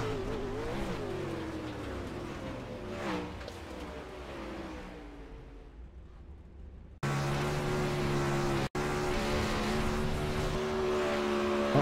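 Onboard engine of a 360 winged sprint car, car number 11, at full race pace, a loud, steady, harsh roar with rising and falling pitch as the throttle works, then a sudden cut to another close, blaring engine angle.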